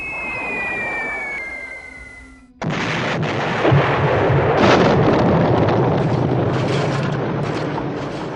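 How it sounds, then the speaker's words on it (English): Bombs from B-24s explode in the B-17 Flying Fortress Leader game, a loud sudden blast breaking in after a falling whistle and giving way to a sustained rumbling roar. "The B-24s drop their bombs."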